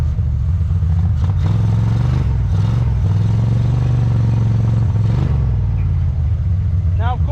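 A 713cc V-twin Kawasaki Mule utility vehicle rolls through woods, its engine a loud, steady low drone with clattering over rough ground throughout.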